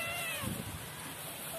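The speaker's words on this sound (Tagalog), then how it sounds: "Mga pusa, si John at saka si Charis" Cats meow in a home kitchen, a wavering call over a steady background hiss, with a lower note partway through.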